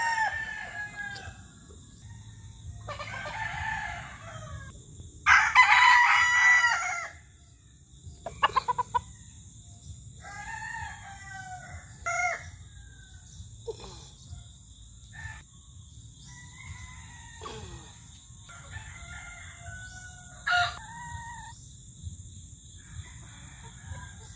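Several roosters crow repeatedly at a farmyard feeding, some loud and near, others fainter, with scattered clucks and short calls between the crows over a low background hum.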